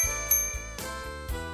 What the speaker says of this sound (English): A horse bell.